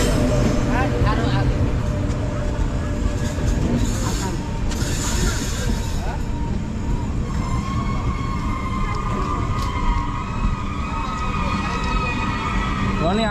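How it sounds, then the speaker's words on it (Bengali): The Shalimar–Puri Dhauli Express (12821) arrives at a station with a loud, continuous rumble and mechanical clatter, mixed with murmuring voices on the platform. "আমাদের ট্রেন কিন্তু এখন আসছে।"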